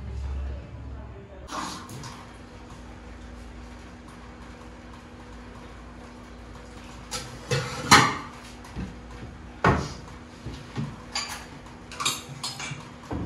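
Dishes and cupboards clatter during kitchen cleaning, with scattered sharp clinks and knocks of pots, pans and cutlery that come more often and louder toward the end, over a faint steady hum.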